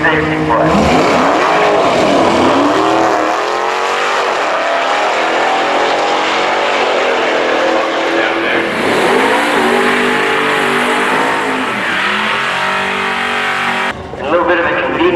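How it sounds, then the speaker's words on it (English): A drag racing car does a burnout at the start line, spinning its tires to warm them on the prepped, sticky surface. The engine roars loud and close with revving swells and tire squeal as a voice talks over it. "for spinning tires like that is to get them extra warm"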